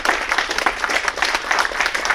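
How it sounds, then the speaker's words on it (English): Applause from an audience at a Lunar New Year celebration at City Hall for the Year of the Tiger, a dense, steady roll of many hands clapping close by throughout, with no pauses. "Another round of applause for this year, the Year of the Tiger"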